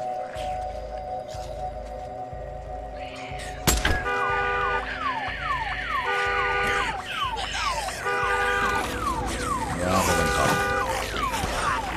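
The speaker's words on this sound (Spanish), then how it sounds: "que tú tienes una alarma, creo" An alarm wailing in the open-world game Days Gone, a repeating, rising and falling electronic tone over a low pulsing drone, loud and close, with game noise and a sharp crash partway through.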